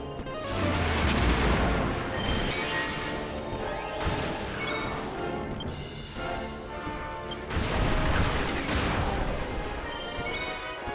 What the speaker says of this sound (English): There's that AoE attack that you can't avoid.